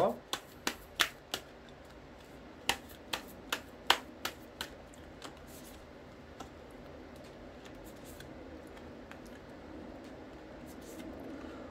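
Tarot cards are shuffled and drawn, giving a run of sharp, crisp snaps and flicks, evenly spaced at first, then tapering to softer card rustles, close and quiet with no speech over them.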